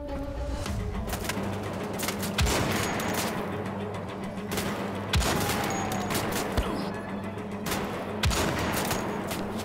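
Sniper rifle fire in Wolfenstein: The Old Blood, a handful of sharp shots at irregular intervals standing out over a steady busy game background, fairly loud and close, no talking.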